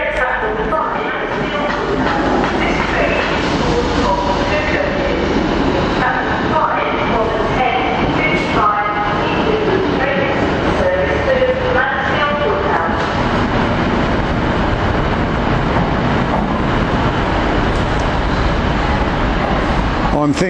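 A train heading to Matlock via Derby rumbles past on the line near Nottingham, a continuous rolling clatter with brief sharper knocks. People talk over it.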